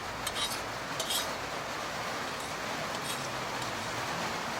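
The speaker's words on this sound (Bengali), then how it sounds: "তো তারপর কড়াইতে তেল দিয়ে নাড়াচাড়া করেছি।" Metal utensil scraping and clinking against a wok as oil is stirred over heat, several sharp scrapes early on over a steady low hiss, no talking.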